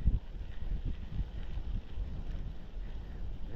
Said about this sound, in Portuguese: Vento gelado.